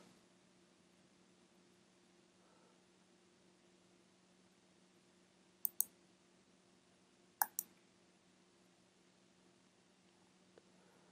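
Mouse clicks while installing Ubuntu: two quick pairs of faint, sharp clicks over a quiet background hum, with a tiny tick near the end.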